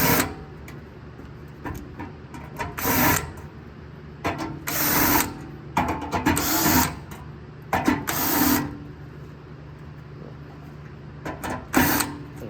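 A power driver backs self-tapping screws out of the burn pot of a Pellet Pro Elite pellet grill in several short whirring bursts, separated by quiet gaps and light handling clatter, close and without talk.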